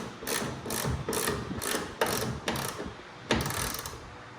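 A hand ratchet snugs up bolts on a Toyota Tacoma TRD Offroad, giving close, loud bursts of rapid clicking in several short strokes with brief pauses between them.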